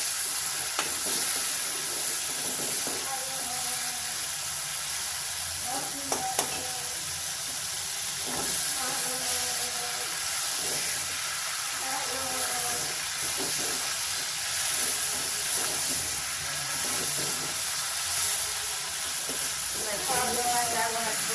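Prawns frying in a pan over a gas flame turned to full, a steady close hiss and sizzle with intermittent crackles and stirring scrapes throughout.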